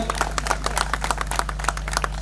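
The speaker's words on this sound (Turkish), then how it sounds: "Gençler için güçlü bir alkış rica ediyorum sizlerden." A small crowd claps in sharp, fairly regular bursts at a gathering cheering young people, with a steady low hum beneath the crisp hand strikes.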